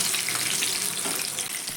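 Crispy lentil snacks fry in hot oil, giving a steady, loud, continuous sizzle that stays even from start to finish with no talking over it.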